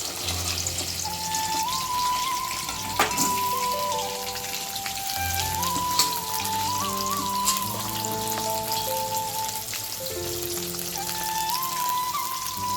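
Pieces of sea crab, salted and coated in turmeric, frying in hot oil, a steady close sizzle and crackle that runs throughout, with a low tonal hum in the background.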